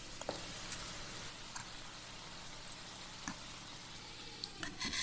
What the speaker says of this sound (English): So we stir fry and also mix them together, scraping the bottom to prevent the gravy from burning.